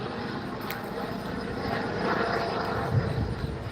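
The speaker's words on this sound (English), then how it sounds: "That's one of those air medical choppers." Yellow air medical helicopter flying overhead, its rotor and engine drone rising and swelling slightly as it passes, distant but clear with no talk.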